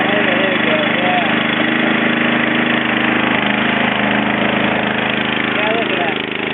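A riding lawn mower engine runs steadily at a loud, close idle after starting, a continuous mechanical drone throughout.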